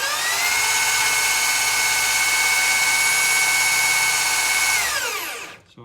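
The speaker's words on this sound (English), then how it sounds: "And this drill is reversing." A motorised mill-drill spins steadily in reverse at fairly low speed, a continuous whining hum with strong harmonic tones close to the mic, holding for about five seconds before spinning down and stopping.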